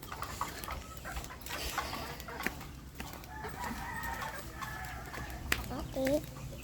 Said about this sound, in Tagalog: yan yung mga manok dito.